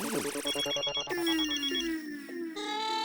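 A phone ringtone plays loudly and continuously, a bright melodic electronic ring with repeating tones and no voices.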